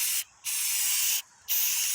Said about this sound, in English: I'm spray painting the white handle.